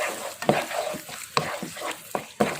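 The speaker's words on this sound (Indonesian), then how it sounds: "ini saya aduk rata" A spoon scrapes and stirs sweet and sour chicken in a pan, with a soft sizzle underneath and several sharp clinks against the pan at irregular moments, fairly close and without talk.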